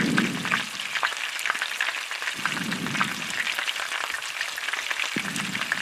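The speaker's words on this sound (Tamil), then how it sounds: "அந்த சின்ன வெங்காயத்தை நல்லா ஆட் பண்ணிவிட்டு அதையும் நல்லா ஒரு ஃபைனாக ஃப்ரை பண்ணிக்கோங்க" Small onions (shallots) frying in oil in a pan for mutton chukka, a steady close sizzle and crackle with occasional stirring scrapes, continuous and without talk.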